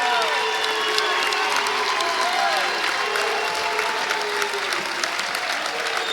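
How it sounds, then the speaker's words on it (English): The home crowd gives a standing ovation at a high school wrestling match between Paulsboro and Collingswood, sustained clapping and cheering in a large gym with a commentator talking over it. "standing ovation by the Paulsboro crowd"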